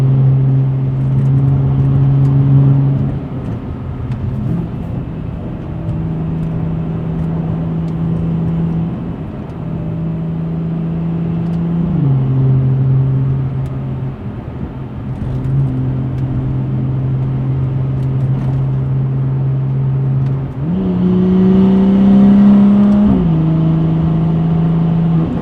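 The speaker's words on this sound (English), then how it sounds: "Car sounds so good." A car with a newly broken-in 340 engine revs repeatedly, its deep steady drone stepping up and down in pitch through gear-like shifts, loud and close, with a stronger surge near the end and no talking.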